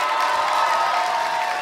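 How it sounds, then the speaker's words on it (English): At a beauty pageant grand final, a crowd gives a loud, steady roar of cheering and shouting with some clapping mixed in, continuous for under two seconds. "Give the girls a big round of applause."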